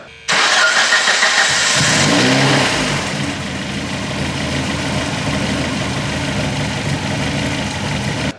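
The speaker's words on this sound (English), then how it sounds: "when we start the car now, it wouldn't stall. It seems to be idling much better" A classic Ford Sierra RS Cosworth four-cylinder cranks and fires, flaring loudly in a short rev before settling into a steady, close idle that runs on with a slightly uneven beat; no one speaks.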